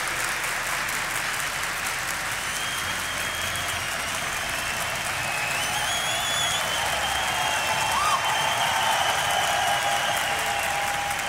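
Arena crowd in Malmo cheering and applauding during a CS:GO DreamHack Masters semi-final, a steady loud roar of cheers and clapping that swells slightly toward the end, with a caster's voice faintly underneath.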